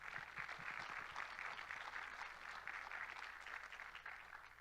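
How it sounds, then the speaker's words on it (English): Faint applause for a newly elected district counselor at a Cherokee community event, a steady, distant wash of clapping that holds for several seconds. "Let's give her a big round of applause."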